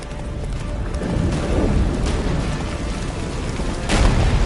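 Roach, a horse in The Witcher 3, gallops hard toward a fortress, hooves drumming in a dense, continuous rumble mixed with loud game noise and booms.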